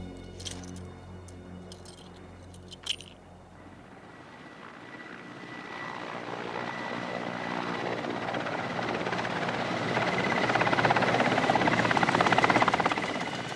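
A helicopter in a snowy tiger habitat, its rotor and engine drone swelling steadily from faint to loud as it approaches, with a sharp knock or two early on and no one talking.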